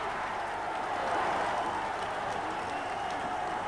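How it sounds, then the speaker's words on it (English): A football crowd at a 1983 Milk Cup match between Wimbledon and Nottingham Forest roars after a goal, a steady, broad wash of cheering and applause, distant and sustained without a break. "The crowd celebrate 2-0"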